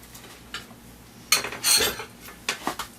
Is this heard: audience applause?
no